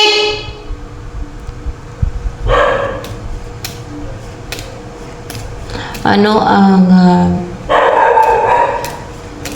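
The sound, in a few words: dog barking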